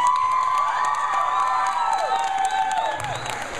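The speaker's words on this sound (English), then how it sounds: "Huge round of applause" A film screening audience in Miami cheers and applauds the cast, with loud whoops and high excited shouts riding over a bed of clapping, close and lively, fading slightly toward the end.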